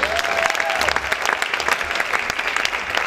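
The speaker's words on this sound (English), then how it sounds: "Let's give them a round of applause." A crowd at a charity event claps in sustained, dense applause, loud and close, with a brief whistle early on and scattered voices mixed in.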